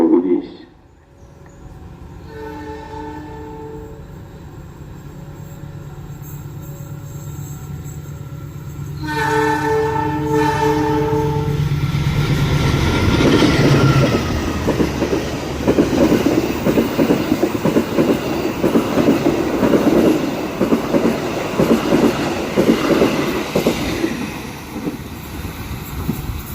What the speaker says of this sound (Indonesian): kita tunggu Argo Wilis menyilang di stasiun Jeruk Legi